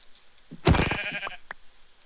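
A single close, clear sheep bleat from the Minecraft video game, in a modded Goety dark-magic playthrough, heard alone against quiet game ambience.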